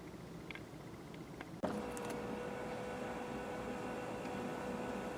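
The power rear sunshade motor of a 2017 Genesis G90 starts with a sudden click and settles into a steady, faint electric whir. The motor hum runs evenly in a quiet cabin without any talking.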